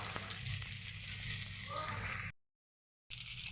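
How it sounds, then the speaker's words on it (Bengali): Bangda fish fry in a pan over a lowered gas flame, giving a steady close sizzle that cuts off briefly and then resumes. "ভালো করে দেখুন আমি ভালোভাবে ভেজে নিয়েছি গ্যাসের ফ্লেমটা এটাও কম করে দেবো এবং হতে দেবো"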